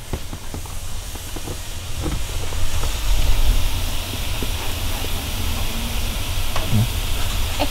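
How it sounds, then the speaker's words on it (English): Water hisses and steams steadily as it evaporates on a hot wood-fired heater inside a greenhouse, a continuous airy sizzle with a brief louder surge in the middle and faint background noises around it. "It's evaporating."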